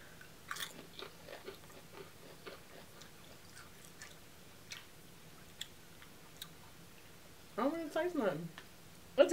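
Crunching bites of sausage-flavored Lay's potato chips, soft scattered chewing clicks near the mic, with people talking briefly near the end.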